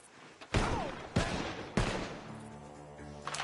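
Three sharp gunshots from Red Dead Redemption 2 ring out about half a second apart, loud and close, each trailing into echo, with music humming softly underneath.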